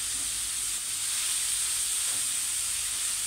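Alexandrian-style liver frying in a pan, a constant close hiss and sizzle with a faint scrape as the pieces are turned, and no talk over it.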